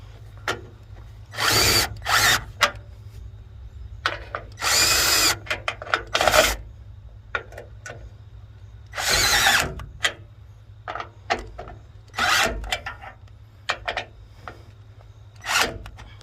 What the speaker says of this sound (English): Well, we're back to Milwaukee. This is a 1/4 inch impact.